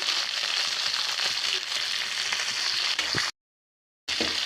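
Ivy gourd frying in a pan, an even, crackling sizzle close up that runs steadily, cut by a brief moment of total silence before resuming.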